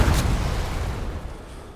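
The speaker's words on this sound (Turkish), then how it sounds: "Araba patladı." A single heavy boom as a car blows up in a video game, starting loud and rumbling away over a couple of seconds.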